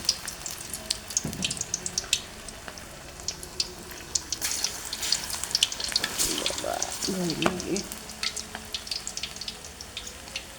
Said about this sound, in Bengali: এখানে দিয়ে আস্তে আস্তে ভেজে নেব।